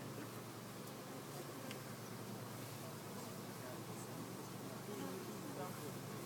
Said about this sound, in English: you got a big ball of bees on close to you